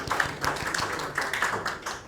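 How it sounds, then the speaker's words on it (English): Audience applause, a steady rapid patter of many hands clapping at moderate distance, with no talk over it. "Let's give each other a round of applause for the attendance."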